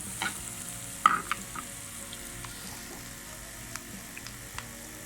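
Onions sautéing in hot oil with a soft steady sizzle and occasional light stirring clicks and scrapes, close but quiet, with no voices.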